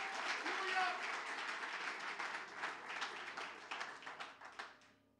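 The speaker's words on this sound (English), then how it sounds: "give the Lord a hand clap of praise very quickly as you be seated" A church congregation claps hands in praise, a dense burst of many hands that starts loud and gradually thins and fades over about five seconds, with some voices mixed in.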